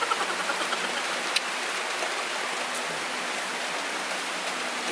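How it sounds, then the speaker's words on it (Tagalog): Rain pours down during a rice harvest in the Philippine countryside as an even, dense hiss. Faint drips and taps stand out now and then, with no talking over the constant downpour. "Napsag yung ulan guys."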